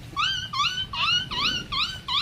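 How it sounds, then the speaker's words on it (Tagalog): A hungry dog whimpers and yelps in a steady series of high, rising-falling cries, about six in a row, fairly close, over a low background rumble during a storm. "Oh, may aso."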